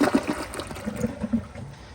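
A 2019 AquaSource Henshaw toilet flushing with a short, weak rush and gurgle of water, close by and without talk.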